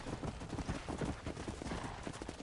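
Horse hooves clip-clopping in the Red Dead Redemption video game, a steady run of dense, fairly loud hoofbeats over a busy game soundtrack, with a faint whinny.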